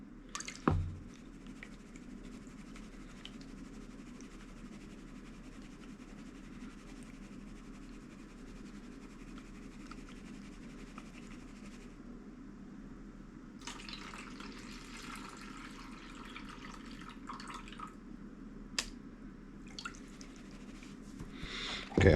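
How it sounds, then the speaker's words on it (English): Mud paydirt stirred and washed by hand in a water-filled gold pan, a continuous wet sloshing and swishing with soft drips, close and steady throughout, with a few brief splashes. "I'm going to stir it and wash it with my fingers."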